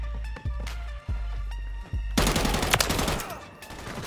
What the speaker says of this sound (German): jetzt habe ich auch sinnlos Munition rausgeballert